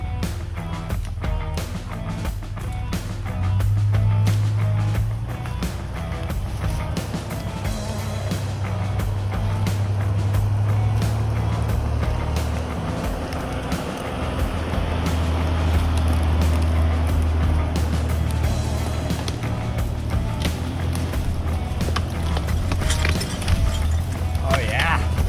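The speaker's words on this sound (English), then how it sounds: "So I'm gonna hop in the Jeep and try to drive up the hill." A 2000 Jeep Cherokee climbs a hill off-road in four-wheel drive, its engine droning loud and steady throughout with pitch rising and falling as it works, tires and body rattling underneath.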